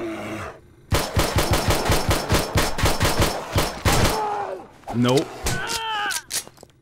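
A .44 Magnum fires at a bear in the survival game 7 Days to Die: a rapid string of about a dozen sharp, loud gunshots, then a few scattered shots mixed with someone speaking briefly.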